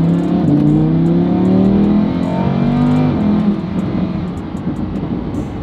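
A Lamborghini Huracan in sport mode accelerates hard, its engine note climbing steadily through the revs, loud and close for several seconds before easing to a lower drone.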